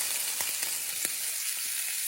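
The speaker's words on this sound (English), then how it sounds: "I had some Italian sausage left over from breakfast, so I'm going to fry that up" Leftover Italian sausage frying in a pan, a steady close sizzle with a few brief clicks and scrapes scattered through it, no voices.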